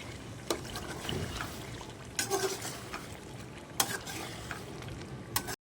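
Spices are stirred into a sizzling beef karahi in a pan, with a continuous frying hiss and a few scraping knocks of the spoon against the pot.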